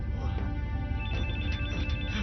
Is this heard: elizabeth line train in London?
no